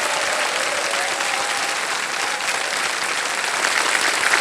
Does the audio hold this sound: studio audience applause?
yes